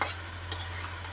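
A spoon stirs fish curry with garam masala in a pan, giving a few soft scraping clicks over a gentle sizzle and a steady low hum, with no voices.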